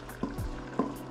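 Garlic, onions, carrot and potato tipped into a cooking pot, giving two soft thuds and splashes about half a second apart over a low background hum.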